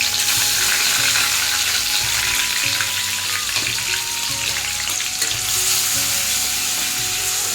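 Ginger, garlic and onion paste sizzles steadily in a hot pan of oil, a loud, dense frying hiss with occasional stirring scrapes throughout, no voices.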